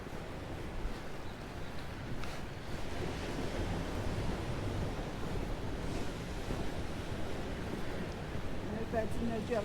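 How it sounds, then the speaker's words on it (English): Surf washes onto the deserted beach at Magaluf, Mallorca, a steady broadband roar of breaking waves mixed with gusty wind buffeting the microphone, continuous and fairly close throughout. "the deserted beach of Magaluf"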